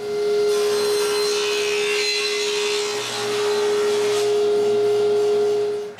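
Power saw cutting the corners off wooden pieces to make quarter-round trim for a closed bookcase, a steady loud whining cut with a constant tone running for several seconds, no talk.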